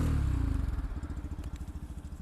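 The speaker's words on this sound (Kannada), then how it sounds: "ಸೊ ಇದ್ರದ್ದು ಸೈಲೆನ್ಸರ್ ನೋಟ್ ಒಂದು ಕೇಳ್ಕೊಂಡು ಬರೋಣ ಯಾವ ತರ ಬರ್ತದೆ ಅಂತ" Yamaha FZ Hybrid motorcycle idling, its exhaust giving a steady, close, low rhythmic putter that continues evenly without any voices over it.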